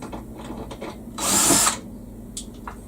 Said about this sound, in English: Let's just get these two screws out, because I put them back in so I wouldn't lose them.